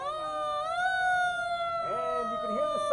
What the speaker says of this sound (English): And you can hear the sirens in the distance.